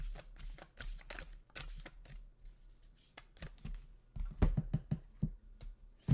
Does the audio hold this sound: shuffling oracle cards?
yes